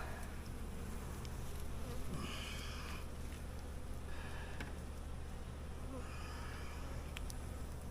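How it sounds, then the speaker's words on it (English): A dense, steady buzzing of many honey bees swarming close by, a low continuous drone with occasional louder passes. "that's a bunch of bees"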